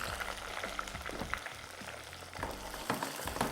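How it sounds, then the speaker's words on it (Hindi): Fish frying in hot oil over high heat for popcorn fish, a steady close crackling sizzle with occasional sharper pops, continuous and moderately loud with no talking. "अब इसको हमने तेज़ आंच पे तकरीबन कोई 5 मिनट फ्राई होगा।"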